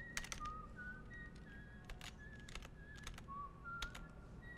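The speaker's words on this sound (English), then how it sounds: "I like that song that he's whistling." A guard in the Dishonored video game whistles a tune, faint and a little distant, in short melodic phrases over quiet room ambience and clicking.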